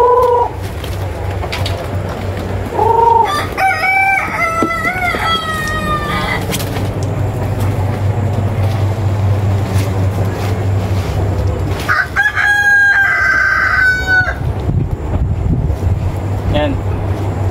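Free-range chickens and chicks cluck and squawk nearby, with a rooster crowing in drawn-out calls at intervals over a steady low background hum, while someone talks throughout.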